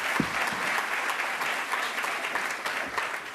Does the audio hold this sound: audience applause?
yes